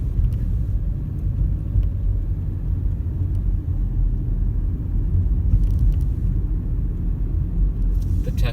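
A car drives on a California road during a behind-the-wheel driving test, its engine giving a loud, continuous low rumble that holds steady for several seconds.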